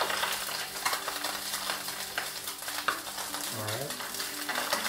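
A fish fillet sizzles steadily in a hot non-stick pan, a continuous close frying crackle with a brief scraping stir partway through.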